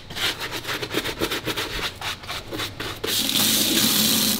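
A brush scrubs a wet, soapy leather sneaker in quick back-and-forth strokes, a rhythmic close rubbing that gives way to a steady broad hiss near the end.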